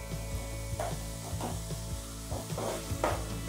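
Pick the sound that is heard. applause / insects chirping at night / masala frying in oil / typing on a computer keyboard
masala frying in oil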